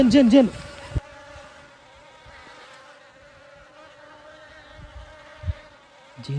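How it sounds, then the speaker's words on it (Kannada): Honeybees flying overhead on a hillside outdoors, heard as a steady, fairly faint insect buzz and drone with a few nearby rustles and brief bursts of sound at the start and end. "ಜೇನು ಇಲ್ಲಿ ಮೇಲೆ ಹೋಗ್ತಿದೆ ಕಣೋ, ಹಾರಾಡ್ತಿದೆ ಮೇಲೆ."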